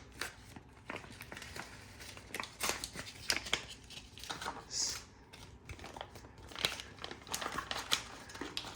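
Sealed plastic packaging on a Kubey Hyde knife being opened, faint crinkling and sharp tearing clicks in irregular bursts, close and quiet with no talk.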